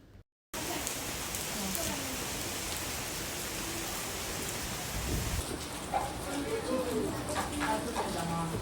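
Steady rain hisses down continuously, with a voice speaking faintly under it toward the end.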